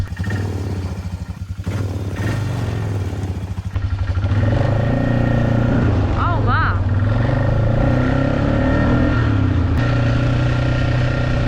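Old four-wheeler ATV engine, started after sitting parked for 12 years, runs with a steady low idle that swells louder partway through, rattling and clattering underneath, while a person briefly exclaims.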